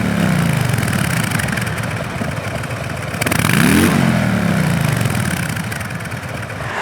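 A 2020 Harley-Davidson Low Rider S with its air-cooled 114 pushrod V-twin runs close by, a lumpy loud idle that swells into a brief rev midway and then settles back down, with nobody talking.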